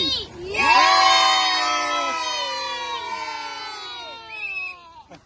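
A group of voices on a jeep safari to Pambar Falls, Kodaikanal erupts in a loud, sustained cheer and shout, holding for several seconds before trailing off with a few scattered higher yells.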